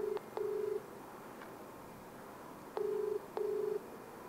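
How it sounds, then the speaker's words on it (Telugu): Touch-tone keypad presses followed by a repeating ringback tone as a phone call is placed, four short steady beeps in two spaced pairs, faint and alone with no talking. "ఇంకొకసారి సునీల్కి ఫోన్ చేద్దాం"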